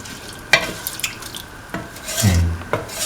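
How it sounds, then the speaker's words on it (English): Rice mixture stirred in a pot for a rice dish made with mint, cottage cheese and coconut milk, giving a few scraping strokes and a soft sizzle, close and alone. "Mix thoroughly"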